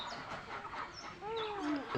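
Egyptian crossbred farm chickens cluck near at hand as they come out of an opened gate on a farm, with several overlapping calls and one rising, drawn-out note toward the end.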